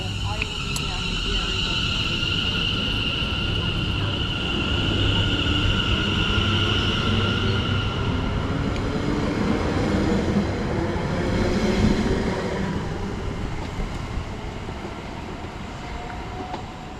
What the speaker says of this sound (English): (72574) is arriving here. This is the 11:43 Greater Anglia service to Braintree from London Liverpool Street